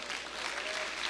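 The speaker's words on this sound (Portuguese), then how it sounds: "Aplaude aí, aplaude." A church congregation bursts into dense, continuous applause, a brief, even roar of many hands with no break across the moment.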